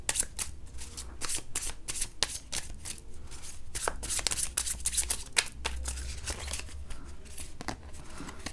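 Tarot cards shuffled by hand give repeated crisp riffling bursts and soft slaps in a quick, uneven rhythm, close and clear, with no one speaking.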